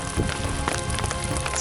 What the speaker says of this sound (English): It's hailing on us coming down from Frigid Air Pass.